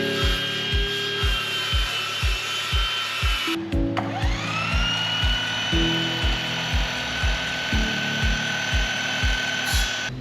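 Power saw ripping lengths of timber, a steady loud whine broken by a string of regular rhythmic cutting pulses, with a brief pause and the saw spooling up again partway through.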